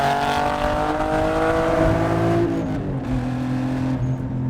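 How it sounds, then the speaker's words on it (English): A 500 whp big turbo BMW M3 accelerating hard in second gear, its engine roaring loud and close as revs climb, then a shift drops the pitch briefly before it pulls upward again. "That is the angriest sounding BMW I've ever driven."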